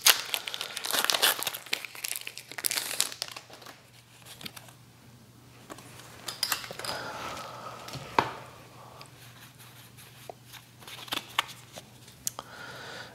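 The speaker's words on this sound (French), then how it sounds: "on va ouvrir du Marshado" A Pokémon card booster pack of Marshadow-era cards being torn open and the cards shuffled through, steady close crinkling and rustling of foil wrapper and card stock with brief pauses.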